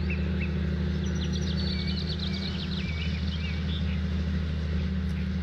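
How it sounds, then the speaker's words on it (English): Birds chirp in scattered short calls across an open field in Farming Simulator, with a steady low engine-like drone running underneath the whole time. "A lot of birds out in the field today."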